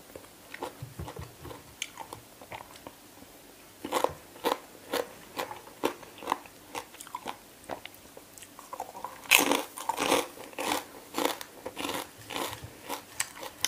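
Crunchy biting and wet chewing of spicy green papaya salad (som tam) made with freshly bought papaya and eaten with soft, chewy khanom jeen rice noodles, repeating in close, loud bursts that grow denser toward the end.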